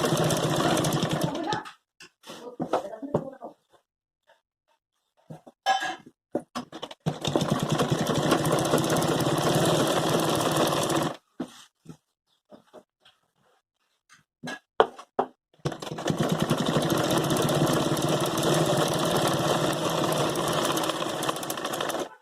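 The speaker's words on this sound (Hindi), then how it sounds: "मैं यहाँ पर इसकी चोली पर ऊपर ऊपर सिलाई लगाऊंगी।" A sewing machine stitches the bodice of a party-wear gown made from an old saree, running in bursts: two short whirs, then two long steady runs separated by quiet pauses.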